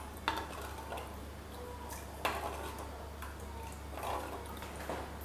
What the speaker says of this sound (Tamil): இப்போ இதை வந்து நல்லா மிக்ஸ் பண்ணிடலாம்.